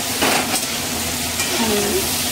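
Potatoes fry in a pan with turmeric and salt for chira pulao, a steady close sizzle running throughout with a few soft scrapes of stirring and no talking.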